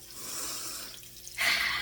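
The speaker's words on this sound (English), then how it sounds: "I have the water on because it's grounding me" Water running from a tap with hands in the stream, a steady soft hiss that grows louder and brighter near the end, quiet and close.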